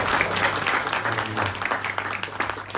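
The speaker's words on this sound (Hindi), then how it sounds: "प्रभु की महिमा के लिए हम तालियां बजाएंगे" A congregation at a church service in Doha applauds steadily throughout, a dense wash of clapping with a faint low hum underneath.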